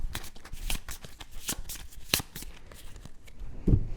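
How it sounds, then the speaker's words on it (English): Board game cards from Star Trek: Captain's Chair are shuffled close by in a rapid series of crisp riffles and snaps, ending with a soft thump as the deck is squared. "And then shuffle."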